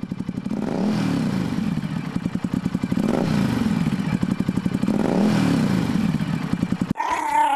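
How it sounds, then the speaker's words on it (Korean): A motorcycle engine revs in repeated surging waves, its rhythmic throb rising and falling several times before cutting off abruptly near the end. "오토바이에서 이렇게 부릉부릉 아니면 으릉 소리가"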